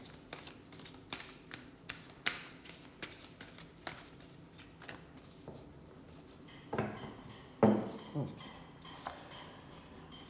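A deck of cards is shuffled in a run of quick riffling bursts, fairly close and quiet, followed by a few louder shuffles and taps, with brief talk in between.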